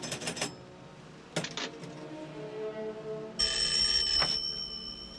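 A telephone bell rings in a film scene, a bright, sustained ring that follows a few clicks and handling knocks. The ringing is moderately loud and heard without speech.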